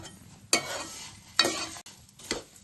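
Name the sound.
flattened rice (poha) being stirred and fried in a pan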